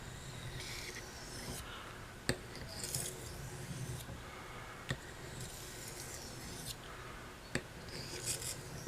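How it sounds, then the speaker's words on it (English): A sharpened knife edge slicing through paper, giving a continuous close rasping, rubbing hiss with a few sharp ticks as the blade catches; no talk. "as the knife cuts and they pass through the material, there's a difference in the way it sounds."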